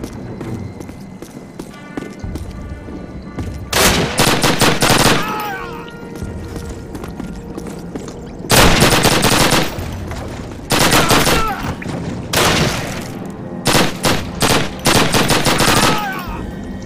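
Call of Duty Soviet mission gunfire, with several loud bursts of rapid automatic fire separated by quieter gaps and shouting in between.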